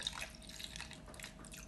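Lemon juice trickles into a marinade of onion for meat kebabs, a faint, soft liquid pour with small drips and splashes, close up and without voices.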